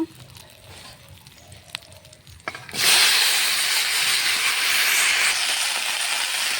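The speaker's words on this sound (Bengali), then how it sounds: "কেটে ধুয়ে রাখা আলু করলাটা দিয়ে দেব।" Cut potatoes and bitter gourd dropped into hot oil burst into a loud close sizzle a few seconds in, then keep frying in a steady hiss after a few quieter clicks.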